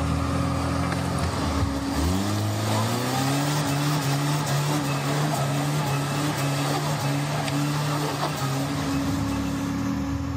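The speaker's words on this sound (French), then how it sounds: "Et les véhicules s'embourbent." Vehicles bog down in unfrozen mud at minus two degrees in Russia, with a loud, constant engine drone revving up and straining steadily throughout.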